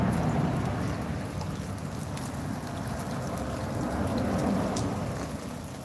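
Steady rain falls outdoors with a thunderstorm, a dense, even wash of drops hitting surfaces that holds loud and unbroken throughout, with no voices.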